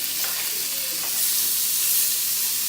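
Steak sizzling in a hot pan just after being flipped, a loud continuous hiss and crackle of frying, close and steady throughout.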